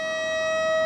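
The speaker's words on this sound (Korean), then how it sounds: "다시 한번 사이렌 소리가 울린다" A siren sounds at a subway tunnel construction site as one loud, steady, sustained tone that swells slightly and holds without a break. Nothing else is heard.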